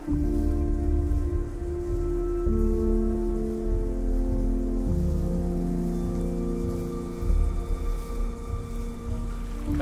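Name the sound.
indoor rain installation in Belgian pavilion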